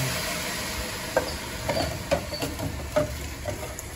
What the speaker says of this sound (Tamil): அரிசி போட்டு வதக்கணும்.